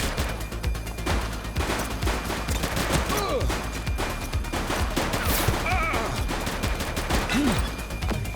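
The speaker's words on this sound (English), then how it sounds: "Shots fired!" Dense, loud gunfire from the police video game The Precinct, with rapid overlapping shots and bursts running continuously throughout a chaotic firefight.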